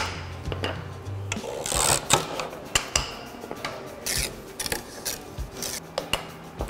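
Bamboo culm sections being split down into strips for a split cane fly rod, heard as a run of sharp cracking and tapping knocks with scraping and rubbing between them, close by and without talk.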